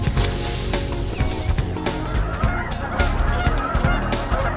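Canada geese honking in a dense, loud flock as they come in to land during an outdoor hunt, overlapping calls continuous and close throughout.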